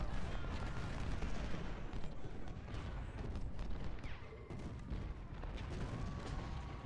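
Battle gunfire in the Civil War strategy game Ultimate General: Civil War rolls on as a faint, distant crackle of musket volleys and dull booms, continuous and unbroken with no talk.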